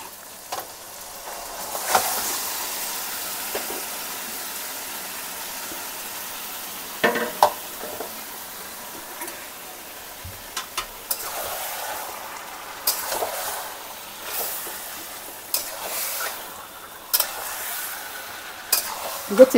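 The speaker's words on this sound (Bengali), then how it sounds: "এবার চিকেনটা ঢেলে দেবো এখানে।" Chicken frying in red spiced masala, a soft steady sizzle under repeated scraping stirs of a spatula against the pan, close by, with occasional louder clatters.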